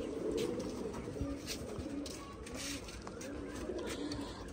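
A pigeon recovering after treatment coos softly in low, repeated murmurs, faint against room noise and some background voices.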